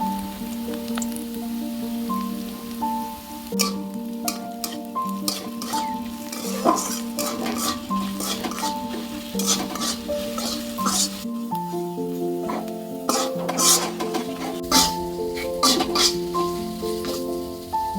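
Turmeric, Kashmiri chilli and coriander powder frying in a pan for cauliflower vorta, stirred with a steady sizzle and scraping clinks of a spoon, close, over a faint background hum throughout.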